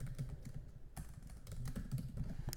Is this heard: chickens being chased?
no